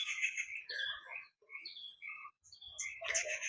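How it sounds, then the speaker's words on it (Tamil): Birds chirping around a drumstick tree by a river, bright repeated tweets and short calls coming close and clear in bursts with brief pauses, no talking. "மேலே பாருங்கள் பறவைகள் பறக்குது தெரியுதா"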